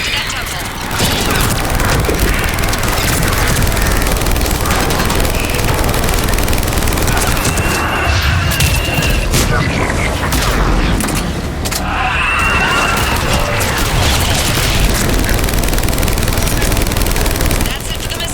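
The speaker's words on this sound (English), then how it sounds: "That's it for the missiles." Relentless, loud missile barrage explosions in Mass Effect 3, a dense continuous roar of blasts and crashing debris lasting many seconds with no let-up.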